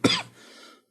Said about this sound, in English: God, dude, all the coughing.